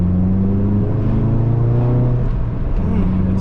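A Volkswagen Golf GTI Clubsport S engine revs close by, a loud droning growl rising and falling in pitch through brief throttle changes.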